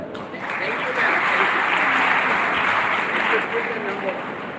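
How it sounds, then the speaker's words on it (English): An audience at a school Yuva Manthan G20 model event claps in sustained, dense applause that swells and then holds steady, with a faint voice underneath. "Can we please have a huge round of applause for them?"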